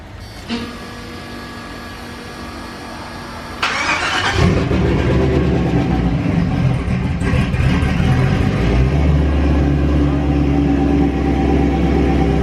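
1986 Chevrolet C30 square-body dually truck with a turbocharged LS engine swap cranks briefly, catches and fires, then settles into a loud, steady, close idle that carries on alone.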